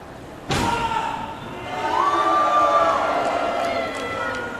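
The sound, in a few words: wrestler slammed onto the ring mat by a powerbomb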